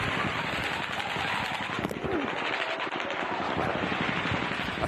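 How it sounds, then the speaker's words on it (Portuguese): Rapid, sustained automatic gunfire rattles continuously through the 2017 Las Vegas mass shooting, a dense, crackling barrage heard at some distance, with faint voices mixed underneath. "Mas logo em seguida, os tiros recomeçaram."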